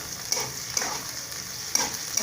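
Potatoes and coriander sauté in a pan for a gram flour kurma, giving a close, steady sizzle with several scraping stirs at regular intervals and no talking.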